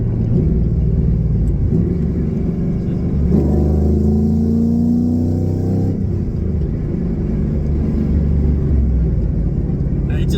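A deep, rumbling 1990s Chevrolet V8 exhaust with an X-pipe revs up and rises in pitch for a few seconds, then settles back to a low throaty drone.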